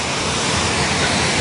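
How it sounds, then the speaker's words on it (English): A waterfall rushes in a loud, steady broadband roar, continuous and close, with no voices. "Oh, this damn waterfall. I'm getting there very slow."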